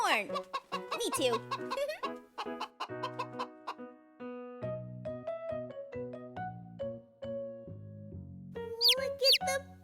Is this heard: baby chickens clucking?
yes